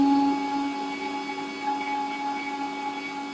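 Mixer grinder blending melon juice in a home kitchen, a loud steady electric whine with a constant motor tone, running alone without speech.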